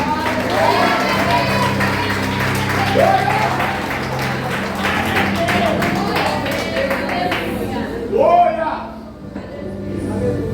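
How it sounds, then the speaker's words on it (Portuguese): A church congregation applauds, a steady dense wash of clapping and crowd noise that runs throughout, with a brief swell near the end and voices mixed in. "Dê uma salva de palmas ao Senhor."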